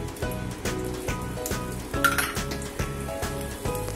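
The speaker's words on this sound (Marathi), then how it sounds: "बाजूने तेल सोडतो।" Oil added around a lentil dosa crackles on a hot pan in a steady close sizzle, with regular soft pulses running through it and no voices.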